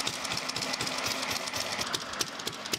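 A Fairbanks-Morse Model Z hit-and-miss engine running outdoors, a steady rapid mechanical clatter of regular knocks and ticks at close range with no talk.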